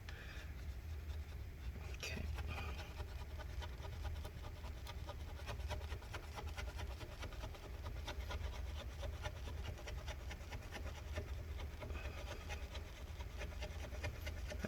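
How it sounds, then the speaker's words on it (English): A blade scrapes adhesive gunk off the battery of a 2012 15-inch Retina MacBook Pro A1398, a steady, continuous, close scratching and rubbing that goes on without pause. "just keep scraping all this gunk off"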